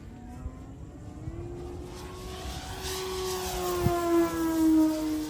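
A 3D foam RC airplane's electric motor whines overhead with a steady tone that rises and falls in pitch as it passes, getting louder toward the end.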